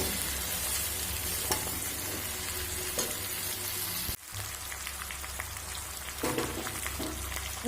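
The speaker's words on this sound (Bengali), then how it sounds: "দু মিনিট মতো মিডিয়াম ফ্লেম করে কষিয়ে নেব" Bhetki fish bones sautéing over a medium flame, a constant dense sizzle with occasional stirring scrapes, a brief dip near the middle and busier spatula strokes toward the end.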